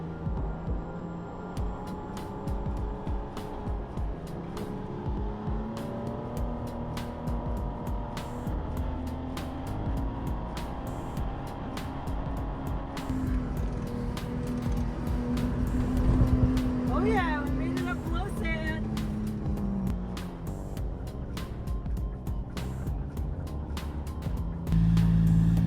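A Toyota 4Runner on Nitto Terra Grappler tires with lowered pressure climbs through blow sand, its engine droning and rising steadily while someone talks over it.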